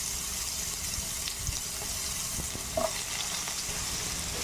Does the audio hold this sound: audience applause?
no